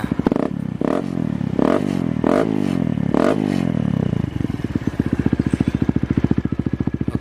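Kawasaki KLX 150 motorcycle with a bored-out stock exhaust, revving up in several throaty bursts, then settling into a close, loud, rapid, popping idle thump.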